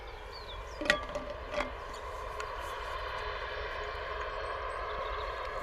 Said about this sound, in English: Looking absolutely gorgeous as it is lining up on runway 27, ready to depart Bristol for Heraklion